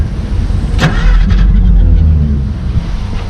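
A 1955 Plymouth Plaza station wagon engine, previously locked up and long parked, cranks and catches, settling into a loud, rough running rumble close by.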